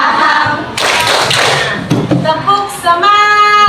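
Elementary school class doing a rhythmic tepuk fokus clapping chant, loud close-up hand claps mixed with children chanting together in unison, with voices calling out in between.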